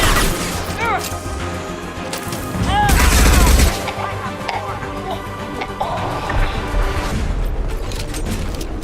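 Gunfire in the video game Mass Effect 2, a dense burst of rapid shots swelling loudest midway through, surrounded by weapon effects, impacts and game sounds, with a brief voice line heard over the action.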